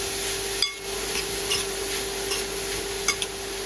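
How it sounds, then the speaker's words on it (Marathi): A spoon scrapes and stirs grated carrots frying in ghee for gajar halwa. The stirs come at uneven intervals over a steady, soft sizzle, close by and with no talking. "पूर्ण गाजर टाकून घेतलेलं आहे आणि आपल्याला छान मिक्स करून घ्यायचे तुपावरती"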